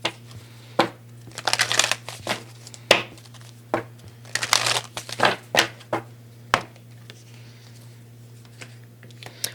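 Tarot moon cards are shuffled and handled close up: irregular papery swishes, riffles and crisp snaps come in clusters over a steady low electrical hum, with no talking.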